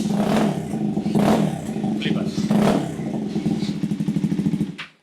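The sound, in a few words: motorcycle engine revving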